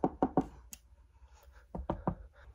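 Knocking on a wood surface indoors: three quick knuckle raps in a tight cluster, a pause, then three more raps, close and moderately loud with no talking.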